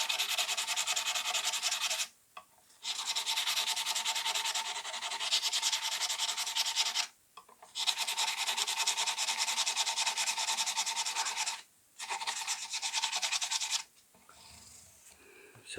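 Fine grit sandpaper, 500 and upwards, rubs back and forth along the frets of a Fender Squier Telecaster in long steady strokes, loud and close, with three brief pauses between passes.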